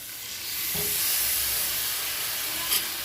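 Spice paste for a prawn malai curry sizzles steadily in the pan after a splash of coconut milk, a close, continuous frying hiss with a couple of faint clinks.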